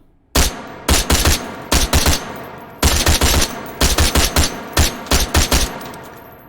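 Rapid rifle shots from a video game, fired with a Hyperfire Reflex Match Trigger on a John Wick 2 edition rifle, come as loud, close bursts of quick double and triple cracks separated by short pauses.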